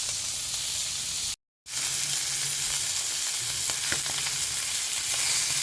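Fish sizzles steadily in hot oil in a non-stick pan: a loud, continuous, close frying hiss with faint crackles throughout and a brief cut partway through.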